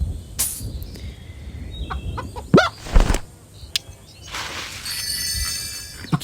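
Chickens clucking in the farming video game Hay Day, short squawks and clucks alongside game interface chimes and sparkling effect sounds, with no talk.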